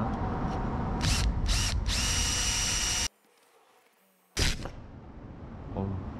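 A power drill bores a hole into a caravan wall during a CCTV install, loud whining bursts with short stops, a brief silent gap, then one more burst before the motor fades.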